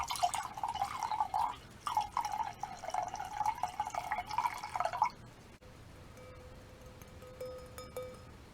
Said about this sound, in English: just a nice refreshing cold glass of Moscato. I'm going to go ahead and pour that for us now.